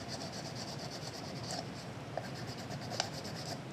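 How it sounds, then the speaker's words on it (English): Model kit parts for an A-10 Warthog being sanded after removal from the sprues, giving a steady close-up rubbing rasp with faint squeaks and a couple of small sharp ticks. "Now it's just the squeaking of sanding."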